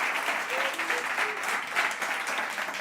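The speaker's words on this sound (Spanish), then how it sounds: "Denle un aplauso al Señor por eso" A church congregation claps loudly and continuously in praise during a sermon, a dense, steady wash of applause filling the sanctuary, with a voice briefly audible beneath.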